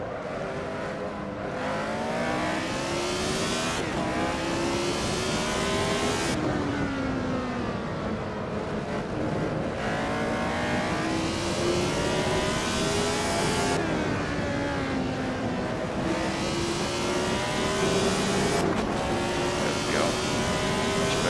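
A Lotus 72 race car engine roars in the Assetto Corsa racing game, a loud, continuous, high-pitched wail that climbs through the revs and drops sharply at each gear change, repeating lap after lap.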